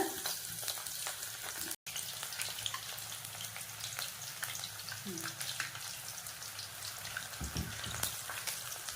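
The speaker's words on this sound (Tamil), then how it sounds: "ஒரு பாத்திரத்தில் எண்ணெய் ஊற்றிட்டு இது காஞ்சதுக்கப்புறம் இதில் வந்து இந்த மாதிரி சின்ன சின்னதாக போட்டுக்கணும்" Small dollops of banana flower pakoda batter frying in hot oil over a medium flame, a quiet continuous crackling sizzle with light scattered pops and a brief dropout, faint and close.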